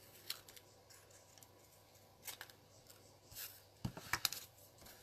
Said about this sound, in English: So I cut another one out of the blue